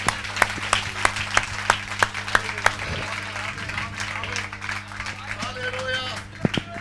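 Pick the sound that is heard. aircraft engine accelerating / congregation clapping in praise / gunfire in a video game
congregation clapping in praise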